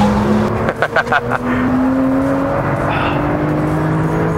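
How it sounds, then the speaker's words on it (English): A brand new Porsche 991 Turbo with all-wheel drive and a turbocharged engine drives hard on a racetrack, its steady engine drone shifting pitch as it pulls out of corners, with a few short bursts near the start. "Brand new Porsche 991 Turbo."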